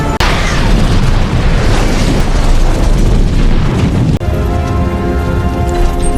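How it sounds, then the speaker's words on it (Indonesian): A big bomb blast from an exploding bracelet in a Jason Statham action film, a loud booming roar with crackling, rain-like debris, then a sudden cut into a quieter ringing tail. "terjadi ledakan besar yang diakibatkan oleh gelang di tangan Malcolm yang ternyata adalah sebuah bom"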